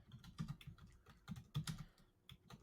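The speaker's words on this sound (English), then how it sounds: "All I can hear in the background is a typing" Computer keyboard typing in the background, quiet irregular bursts of key clicks that come in short clusters with brief pauses between them.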